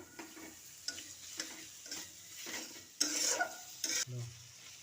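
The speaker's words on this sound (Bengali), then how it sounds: "পেঁয়াজের সাথে মানে মশলাটা দিয়ে একটু নাড়াচাড়া দিয়ে টমেটোটা দিয়ে দেবো" Onion, chili and spices are stirred in a pan for a tengra fish curry. Faint sizzling sits under rhythmic scraping strokes and light clicks of a spoon on metal.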